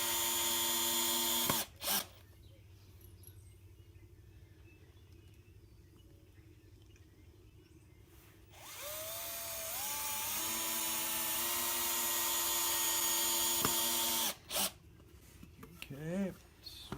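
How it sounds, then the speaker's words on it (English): Power drill driving 3-inch screws into wooden boards for a DIY rifle target stand, with sustained high-pitched whirring bursts that bog and change pitch as each screw seats, separated by quieter pauses. "putting in 3-inch screws in this wood that goes right through locks on good with the other board"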